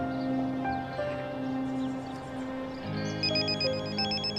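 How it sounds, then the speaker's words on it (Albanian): A telephone rings in an indoor scene from a dubbed drama series, with a steady, repeating electronic ringtone of bright tones that changes pattern partway through. It is clear and close, with no talking. "Si duket po telefonojnë?"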